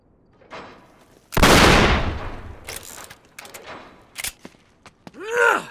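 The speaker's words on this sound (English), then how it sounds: "Back up, I'll shoot the lock" A single loud gunshot blasts a lock in Uncharted 3, a sharp close report with a long decaying tail, followed by scattered metallic clanks and knocks, then a brief vocal grunt at the end.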